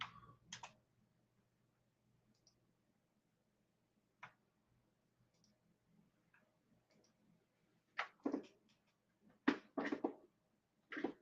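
Sparse computer keyboard typing, with short isolated taps and a few quick bursts of key clicks toward the end, recorded close and fairly quiet against a near-silent background.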